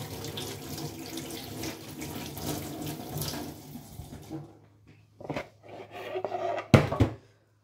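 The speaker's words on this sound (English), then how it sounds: "So I will wash my hand again now." Hands washed under a running kitchen tap, water splashing steadily at first, then stopping and starting in short gushes with a few knocks at the sink, and a voice speaking over it.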